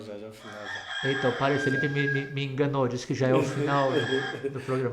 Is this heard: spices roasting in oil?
no